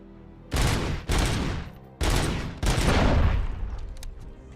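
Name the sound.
gunfire in video game RoboCop: Rogue City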